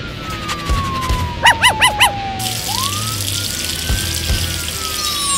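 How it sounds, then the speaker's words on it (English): A police car siren wails loud and near, its tone sliding down then rising again, joined briefly by a quick series of sharp chirping yelps amid vehicle and water noise. "Police car."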